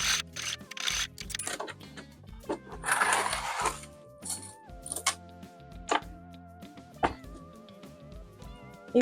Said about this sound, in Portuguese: Eu agora vou cozer deste lado, porque já tenho aqui a costura, vou usar esta costura como guia.